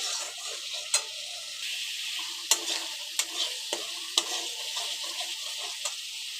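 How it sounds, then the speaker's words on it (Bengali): Spice masala with ground ginger and green chilli paste fries in hot oil over medium heat for an egg curry, a bright continuous sizzle punctuated by repeated sharp spatula scrapes, close up with no voices. "তো সব মশলাগুলোকে একবারে ভালো করে কষিয়ে নেব।"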